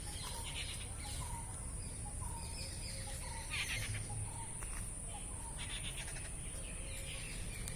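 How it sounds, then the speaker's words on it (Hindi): Birds chirp and sing outdoors in short repeated calls, moderately distant, over a steady background hiss of insects and ambient noise. "आपको मैं दिखाऊं कितना सुंदर जब ये चिड़िया जो है कलरव कर रही हैं"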